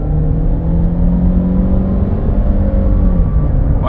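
A 2020 Ford Fusion SE EcoBoost accelerates while holding its gears, giving a steady loud engine drone with rising tones, heard from inside the car.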